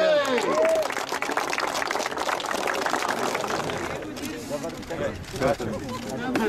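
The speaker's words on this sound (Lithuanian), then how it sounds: "Aplodismentai!" Applause and clapping from a gathered crowd at a groundbreaking ceremony for a Pienas LT factory in the Kaunas free economic zone, a dense patter of hands filling the clip at steady loudness, with voices mixed in.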